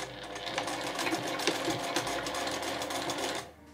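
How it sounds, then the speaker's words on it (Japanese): A sewing machine stitching a small fabric drawstring pouch: a rapid, even mechanical whirr of needle strokes running continuously at close range, slowing and stopping just before the end. "縫い込まないように気をつけながら縫っていきましょう。"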